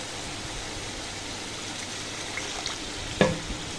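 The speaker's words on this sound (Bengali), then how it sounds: "একটু জল দিয়ে দিলাম, ফুলুলিটা দিয়ে দিলাম" Water splashed into a curry frying with fuluri on a gas stove, a steady loud sizzle with a short pouring splash and a sharp clatter near the end.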